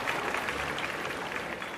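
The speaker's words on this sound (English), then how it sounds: "Let's give her a round of applause." Applause from an audience welcoming a guest, a domestic violence survivor, to an interview event: steady, dense clapping throughout, moderately loud and continuous with no voices over it.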